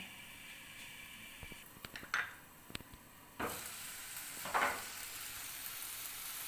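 Onion and tomato masala fries quietly in a pan, a soft steady sizzle with a few clinks and scrapes of a spoon stirring, plus two brief louder bursts of hissing as the mixture is turned.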